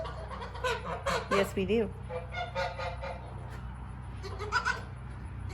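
Several geese on a small farm that also keeps mini dairy goats give a few close, loud honks in a short burst, with people talking over and between the calls.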